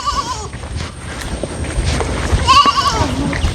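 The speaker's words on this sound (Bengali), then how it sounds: "এখানে দেখা যাচ্ছে যে ছাগল আছে হ্যাঁ, ছাগল পালন করতেছে মানুষ" Goats bleat on a sparsely settled coastal island in Bhola, Bangladesh, with two wavering calls, one at the start and one near the end, over outdoor wind and ambient noise.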